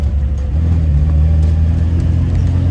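A small classic car's engine drones loudly and steadily while driving a hill climb course, with a constant low rumble and no voices.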